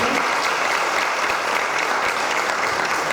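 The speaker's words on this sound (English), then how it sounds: "Please give another round of applause." Sustained audience applause at the close of a lecture at a Hare Krishna festival in Maidenhead, a steady, dense wash of clapping filling the whole stretch without speech.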